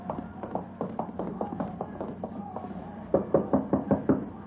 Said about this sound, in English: You knock on the door.